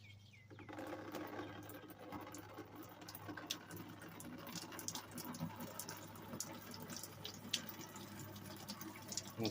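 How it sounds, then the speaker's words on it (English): Dissolved computer-chip liquid poured through a filter to recover gold makes a steady, close trickling and splashing that runs evenly throughout over a low constant hum. "we are going to pour this in here and filter out our gold"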